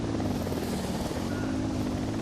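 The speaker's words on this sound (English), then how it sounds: "Chopper inbound." Helicopter rotor drone in Ghost Recon Wildlands, a steady low throbbing chopper that stays loud and continuous throughout, mixed with wind-like broadband rush.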